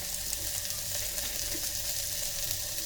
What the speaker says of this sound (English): Fry them around for 1 to 2 minutes.